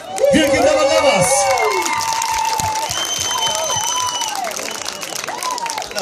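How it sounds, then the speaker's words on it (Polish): A group of participants claps and cheers, scattered applause mixed with excited shouts and whoops, close and lively, with voices calling out over it. "Wielki brawa dla was."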